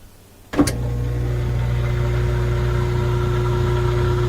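A Frigidaire washer-dryer laundry center motor kicks on with a thump and settles into a steady, loud mechanical hum with a constant drone, close by and without talk.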